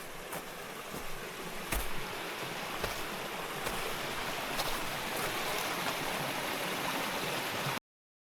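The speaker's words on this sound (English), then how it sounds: "Let's see how it deals with running water." Running water of a stream, a steady broadband rush filmed on an action camera, continuous and fairly close with a few brief clicks and knocks, no voices.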